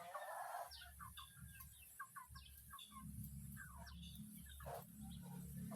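Several chickens cluck and squawk at close range in short irregular bursts while they are handled and marked, over a steady low rumble of background noise.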